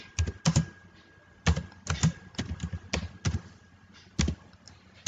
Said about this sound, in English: Now I will type the data.